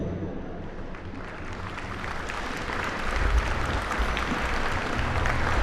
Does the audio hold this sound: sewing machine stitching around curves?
no